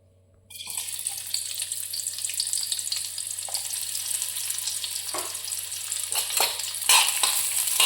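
Onion and coconut roast in oil in a pan for a Kolhapuri chicken dish, a steady broadband sizzle starting after a half-second of quiet and running throughout, with a few stirring scrapes and a louder burst near the end.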